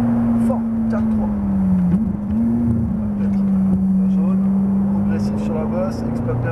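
A Ferrari 458 on a track at full throttle, its engine holding a loud, steady droning note throughout while a voice talks over it.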